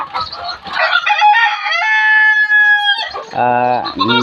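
Egyptian Fayoumi chickens on a small farm: a rooster crows loud and close in a long drawn-out call, then hens cluck and squawk in short rising bursts right after.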